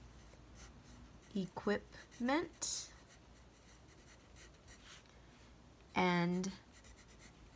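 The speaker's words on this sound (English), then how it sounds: "on my scratch paper, I'm going to go ahead and write at the top" Pen or pencil writing on scratch paper, a steady soft scratching rub that runs under a person's speech, with short bursts of talk at intervals.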